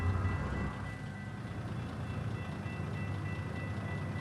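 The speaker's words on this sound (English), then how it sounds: "Awesome, now we have a train." A train rolls past in American Truck Simulator, a low, steady rumble of rail cars that is louder at the start and then settles into a quieter continuous roll.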